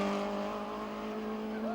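Nissan 240 RS rally car, number 4, on the 1985 Safari Rally in Kenya, engine holding a steady, fairly quiet drone with a constant tone throughout, mid-distance, no voices.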